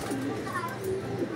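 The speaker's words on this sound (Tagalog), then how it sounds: "ibon ni Boss James na blue bar white" A blue bar white racing pigeon coos softly during a club training return, low murmuring coos over steady background noise.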